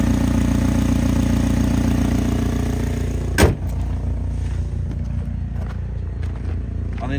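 Car engine of a 2010 Chevy Malibu with a 2.4 liter engine idling under the open hood, a steady close rumble throughout with a brief knock partway through.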